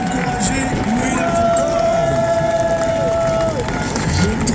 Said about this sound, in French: On peut l'applaudir, on peut l'encourager.